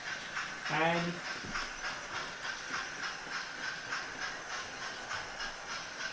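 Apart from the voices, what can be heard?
Fowler model locomotive running on a model railway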